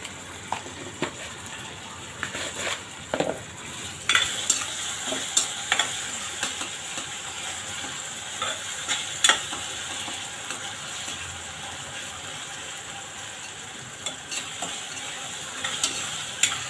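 Ginger-garlic and tomato masala for chana masala being sautéed in a pan, a soft continuous sizzle broken by repeated light scraping and stirring taps, close and moderately quiet, with no talking.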